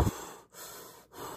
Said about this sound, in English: I need you to breathe.